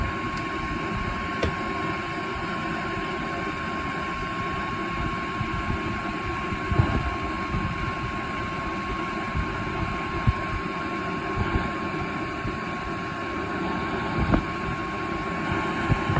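A swamp cooler converted from 110 volt AC to run on 12 volt DC off-grid, blowing cold air: a steady, even fan and pump whir that holds at one pitch throughout, with a faint constant tone and a few small clicks.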